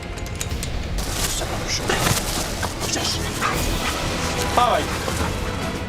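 A gendarmerie intervention unit's police detection dog barks in short, sharp bursts, close and fairly loud, amid background noise and people talking.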